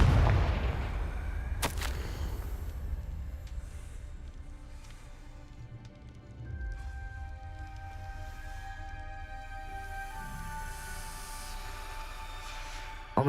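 The Confringo blasting spell cast in Hogwarts Legacy, a sharp crack and burst at the start followed by a fading rumble and lingering ambient hum, heard alone without talk.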